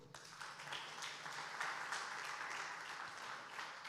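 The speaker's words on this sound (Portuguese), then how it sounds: "Aplauda o Senhor" A church congregation applauds during a sermon, a steady, faint wash of many hands clapping heard from a distance for a few seconds.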